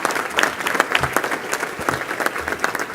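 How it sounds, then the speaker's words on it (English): A room full of people claps for state leaders and staff at a Maryland governor's event, a brisk, moderately loud round of applause with scattered individual claps standing out. "Would you just stand up for a second so we can give a round of applause?"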